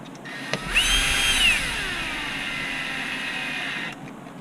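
A power driver runs cap head screws down during an HB Racing D817V2 RC buggy build: a short click, then a rising whine that settles into a steady high motor hum for about three seconds before cutting off.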